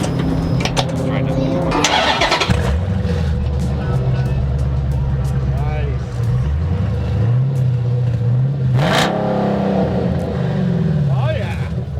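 A modern Hemi V8 swapped into a classic Mopar cranks and fires up loudly nearby, then settles into a rumbling idle with a couple of throttle blips, while people talk around it.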